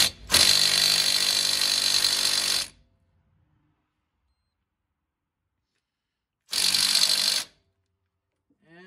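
An impact wrench works on a Suzuki King Quad ATV axle nut in two bursts, a loud rattling run of about two and a half seconds and then a shorter one of about a second, with silence between.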